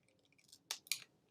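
Scissors trim a paper craft card in two quick, crisp snips close by, faint and sharp against a quiet background.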